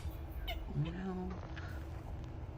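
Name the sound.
cat meowing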